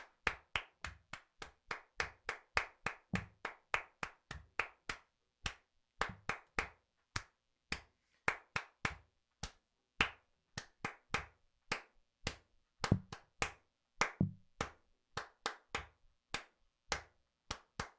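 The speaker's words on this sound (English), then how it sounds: "We're going to clap our hands." Hands clap close to the microphone in rhythmic patterns, sharp dry claps in quick runs broken by short pauses and accents, changing tempo across a long stretch with no voices.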